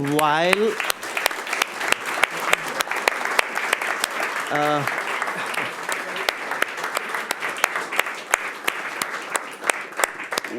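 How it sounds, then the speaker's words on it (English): Sustained applause from a conference audience at a digital humanism and democracy event fills the room, dense and steady, with a brief voice cutting in near the start and again midway. "Big applause"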